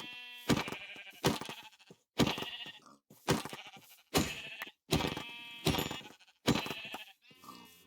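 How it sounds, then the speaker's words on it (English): A sheep bleats in Minecraft, the game's wavering bleat repeating about seven times in a steady rhythm, close and clear with brief gaps of near silence between calls. "Hello sheep, I'll save you. I need your wool."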